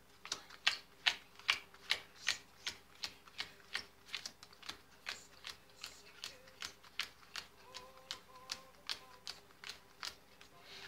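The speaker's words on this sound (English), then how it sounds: "Now I'm going to count these." Playing cards counted one by one after a game of Devil's Grip solitaire, giving a steady run of about two dozen close, crisp taps or flicks on a table at a quick, even rhythm.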